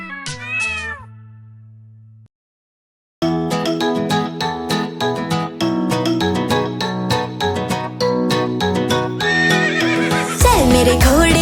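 A horse neighs over bright children's rhyme music with a steady beat, the whinny rising near the end, with faint hoof clip-clops mixed into the loud, busy backing track of a Hindi nursery song.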